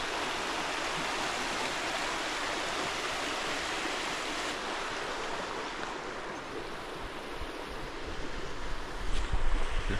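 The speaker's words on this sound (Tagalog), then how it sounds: "Tapos dito sa baba natin ay merong river. Ayan. Ang lakas ng agos" A strong river current rushes below a farm campsite, a steady, close broadband roar of flowing water with no pauses, swelling slightly toward the end, heard alone without voices.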